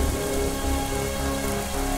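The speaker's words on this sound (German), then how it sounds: "Oh, jetzt regnet es auch noch." Steady rainfall in the puzzle game World of Goo, a continuous hiss of drops on a surface over soft sustained musical tones, even and unbroken throughout.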